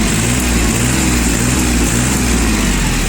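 A Japanese three-cylinder diesel mini tractor engine revs steadily and loudly up close, holding a constant rough low drone with no talk over it.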